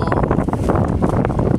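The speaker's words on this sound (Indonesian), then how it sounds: "Terlihat angin di sini berembus kencang" Strong wind gusting beside the Bengawan Solo river near Bojonegoro, Indonesia, buffeting the microphone with loud, rumbling low roar throughout, while a person talks over it.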